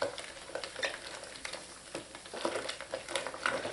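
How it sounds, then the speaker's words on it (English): A lye mixture for goat milk soap is given a quick stir, a steady scraping, swishing churn that runs continuously at close range for a few seconds with no talking. "What I do is give it a quick stir."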